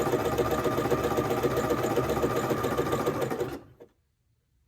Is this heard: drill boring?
no